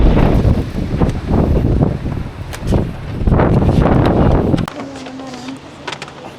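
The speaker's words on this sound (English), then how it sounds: "Told you the wind is crazy." Strong wind on a windy day in Canada roars and buffets the microphone in loud continuous gusts, then drops off abruptly near the end.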